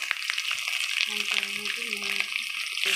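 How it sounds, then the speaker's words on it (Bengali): Papaya being stirred in a frying pan with spices, a constant sizzle of frying under the scrape of the spoon, with a voice talking briefly. "পেঁপেটাকে দিয়ে নাড়িয়ে নিচ্ছে।"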